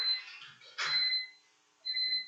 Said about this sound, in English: It's either a fire alarm or your time is up.